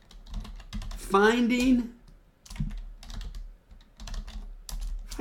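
A computer keyboard clatters in quick bursts of close keystrokes, and someone speaks briefly over the typing.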